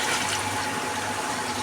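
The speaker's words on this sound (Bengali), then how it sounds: "এবার যে গরম পানিটা ছিল সিদ্ধ করা, আলু সিদ্ধ করা, কপি সিদ্ধ করা, ওই পানিটা দিয়ে দেবো" Hot water from boiling potatoes and cauliflower is poured into a pan, a loud steady gushing splash that fills the short moment without a break.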